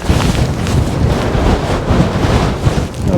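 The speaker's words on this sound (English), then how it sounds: "There's a lot of grit blowing in the wind." Strong wind gusts across the microphone on a beach at Aberlady Bay, a loud steady roar with blowing grit and no voices.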